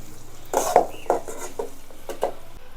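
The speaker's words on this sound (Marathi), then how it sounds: "आता आपण हे परतून घेऊयात इथं आपल्याला कांदा लालसर होईपर्यंत भाजून घ्यायचा आहे" Sliced onions and garlic are sautéed in a pan, with a few distinct spatula scrapes and clinks against the pan over a low steady background hiss.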